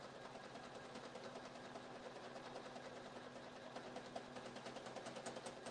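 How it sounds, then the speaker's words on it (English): A Janome 500E embroidery machine stitching a satin-stitch border on an in-the-hoop passport cover, giving a steady, fast mechanical whir with an even needle rhythm that runs unbroken and fairly quiet throughout. "that's the last stage now, is the satin stitch, and that's what it's doing."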